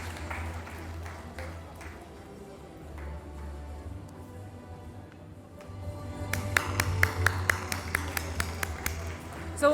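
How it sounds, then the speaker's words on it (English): At an awards summit, a small group of people bursts into scattered, crisp handclaps welcoming chief guests to the stage, starting after a stretch of quiet room hum and growing brisker. "a heavy round of applause is required for all our chief guests"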